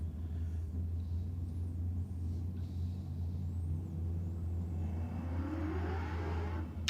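A Hyundai i30N launches down a drag strip at a dragway, its engine droning steadily at a distance before rising into a harsher, building rush as the car pulls away.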